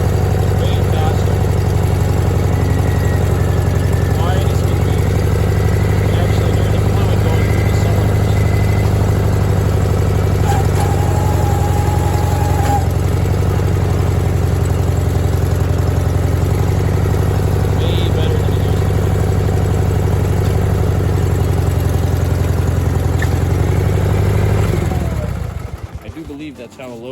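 A Sears Suburban garden tractor engine runs steadily with its front end loader hydraulic pump, previously loud from cavitation, producing a constant close droning hum with faint whining overtones for nearly half a minute before shutting down at the end.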